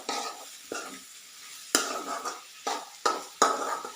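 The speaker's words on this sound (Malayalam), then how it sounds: "ഇതും ഒന്ന് വഴറ്റി കൊടുക്കാം" Spices sautéing in a pan for a curry: a steady close sizzle broken by several sharp spoon clacks and scrapes against the pan, with no voices.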